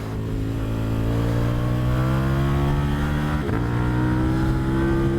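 KTM 890 Duke motorcycle on Bridgestone Battlax S23 tires riding a race track, its engine droning loudly and close with a rising pitch under acceleration, a quick shift, then climbing again.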